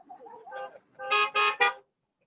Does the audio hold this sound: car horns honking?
yes